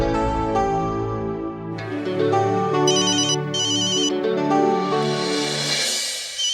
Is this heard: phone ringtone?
yes